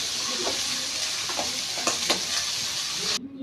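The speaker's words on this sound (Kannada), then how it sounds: "ಇದಕ್ಕೆ ಅದನ್ನು ಚೆನ್ನಾಗಿ ಫ್ರೈ ಮಾಡ್ಕೊಳ್ಬೇಕು ಹಾಕ್ಕೊಂಡು" Boiled flat beans (avarekalu) fry in a pan, a loud, continuous sizzle with several spatula scrapes spaced through it, cutting off abruptly at the end.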